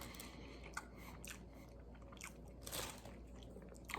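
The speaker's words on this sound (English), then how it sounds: "let's just take a bite of this" A faint bite into a Burger King Impossible Croissan'wich breakfast sandwich, with soft crunching and chewing sounds up close and no talking.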